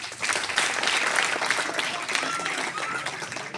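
Audience applause at a primary school Independence Day celebration following a child's speech, steady dense clapping from a crowd sustained throughout.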